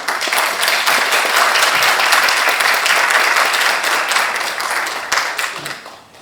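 Loud, close applause from an audience at a pharmaceutical and biohealth industry forum held at the National Assembly, welcoming a lawmaker to the podium, with dense clapping that holds steady before thinning out toward the end.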